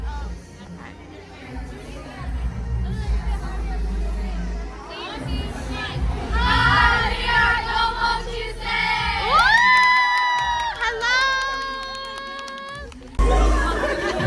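A group of people at a Hmong New Year celebration shouts and cheers together amid crowd chatter, with loud overlapping yells and high voices rising in the middle before cutting off abruptly.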